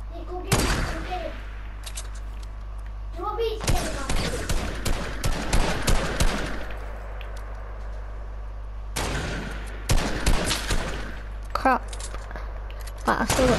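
Bursts of video game gunfire from a sniper fight in a battle royale match, coming in a few loud volleys separated by quieter gaps, with a steady low hum underneath.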